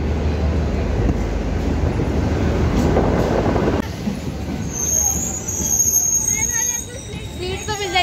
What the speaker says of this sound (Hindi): भाई हमारी ट्रेन आ गई।